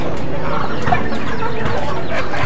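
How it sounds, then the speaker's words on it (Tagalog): Native chickens cluck steadily on a small backyard farm, several birds close by with overlapping clucks and short calls in a loud, continuous stretch with no talking. "Native na manok, Tagalog yung tawag."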